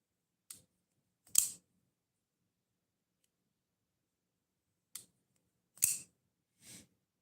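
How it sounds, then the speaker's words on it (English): A new knife being handled, giving a few sharp, isolated metallic clicks spaced apart in a quiet room, with no talk. "I'm playing with a knife."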